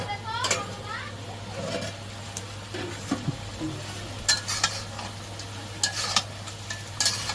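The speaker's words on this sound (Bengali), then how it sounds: "এখানে একটু খুলে হালকা নেড়ে চেড়ে দেব" Duck meat stirred in a pan with its lid taken off, giving scattered scrapes and metallic clinks over a faint sizzle and a low steady hum, with bursts of stirring toward the end.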